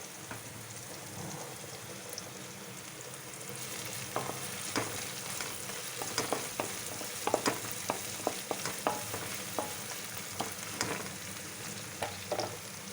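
Chopped green chillies frying in hot oil for a simple chicken fry, a steady close sizzle with sharp crackling pops and stirring scrapes, no voices.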